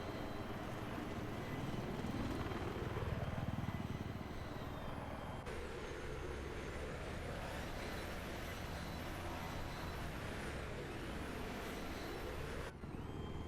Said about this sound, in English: If you get the angle marker to 5, 10 or so, the helicopter will start to fly backwards.